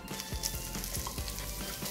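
Bread and sautéed vegetables frying in melted butter in a pan over low heat, making a quiet, steady sizzle with faint soft taps and scrapes and no voices.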